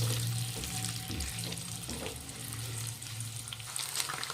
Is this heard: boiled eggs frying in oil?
yes